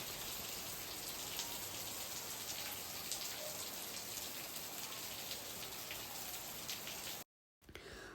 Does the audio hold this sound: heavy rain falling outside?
yes